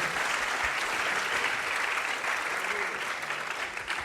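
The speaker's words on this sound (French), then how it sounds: "Un maximum d'applaudissements, s'il vous plaît" Conference audience applauding Mélissa at a talk on education and AI, a full, sustained roar of many clapping hands from a large crowd, steady and somewhat distant with faint voices mixed in.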